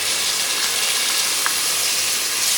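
Tomato and curd frying together in a pan for biryani, giving a steady, loud, close sizzle and hiss that holds evenly throughout with no voices.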